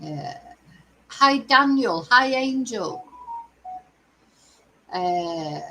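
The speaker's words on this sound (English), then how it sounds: "That was my phone's beeping at me." A couple of short electronic beeps from a phone sound briefly between bursts of people talking, fairly faint and close by.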